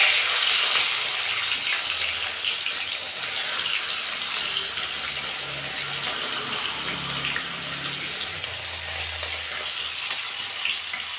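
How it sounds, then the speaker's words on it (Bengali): Pieces of rohu fish frying in hot oil, a loud, continuous hiss and crackle close up that softens slightly over time, with no one talking. "তেল গরম হয়ে গেছে। এখন আমি মাছগুলো ভেজে নেব।"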